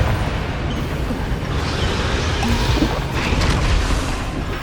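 A Confringo blast spell goes off in the Hogwarts Legacy video game, giving a dense, sustained rumbling boom with crackling debris under it, loud and steady for several seconds.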